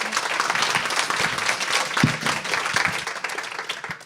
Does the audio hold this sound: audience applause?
yes